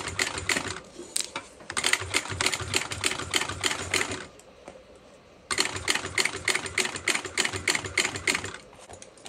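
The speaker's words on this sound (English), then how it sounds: "I'm going to baste it on an eighth of an inch" A sewing machine runs in two fast rattling bursts while basting a seam on a mini backpack, close and loud, with a short quiet pause between the runs.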